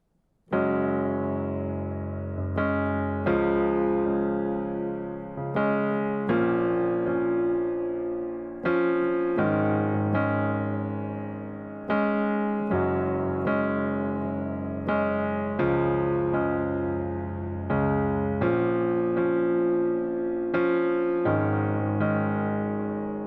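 Sustained keyboard pad chords change every couple of seconds in a slow worship-song chorus progression, each swelling in and slowly fading, playing alone with no voices.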